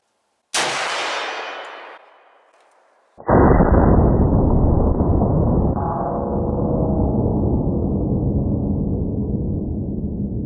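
A Winchester Model 71 lever-action rifle fires a 220-grain Barnes Original round with a sharp, close crack. A loud ringing clang follows from a struck steel plate, long and slowly fading.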